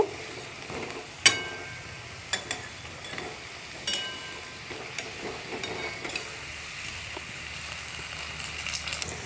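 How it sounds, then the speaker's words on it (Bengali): Potato-stuffed finger rolls fry in hot oil, giving a steady close sizzle and bubbling with a few sharp clicks and taps as they are turned in the pan. "আমি চারি সাইডে উল্টে পাল্টে ভালো করে লাল করে ভেজে নেব।"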